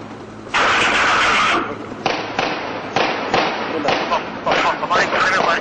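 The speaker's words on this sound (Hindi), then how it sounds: "हमारे कमरे में फायर शुरू हो गया." Gunfire during an armed terror attack in Mumbai crackles through a room: one sustained burst, then a string of harsh, muffled shots and rattling volleys, loud and close but thinly recorded.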